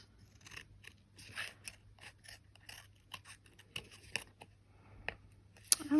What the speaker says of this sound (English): And then I just trim around